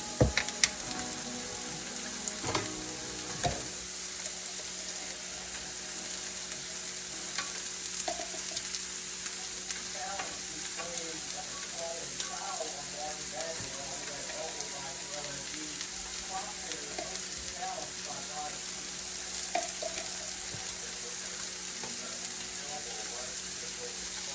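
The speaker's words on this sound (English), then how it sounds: "Alright, we've got the meat cooking." Steak frying in a pan on medium heat with minced garlic added, giving a steady, close sizzle with scattered crackles and pops throughout, and no talking.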